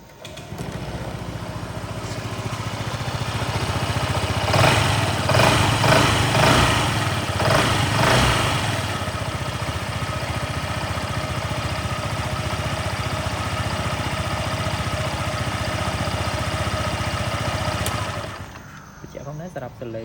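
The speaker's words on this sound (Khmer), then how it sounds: "ឥឡូវខ្ញុំបញ្ឆេះម៉ាស៊ីនជូនបងប្អូន" A Honda PCX 125 scooter engine starts and settles into a steady idle, a close, even mid-pitched hum that runs for most of the clip before cutting off near the end.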